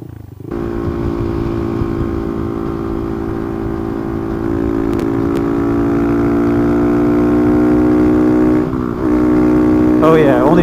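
A Honda Grom motorcycle engine drones steadily at speed on a top speed run, its pitch holding then climbing slightly as it accelerates, with a brief dip near the end.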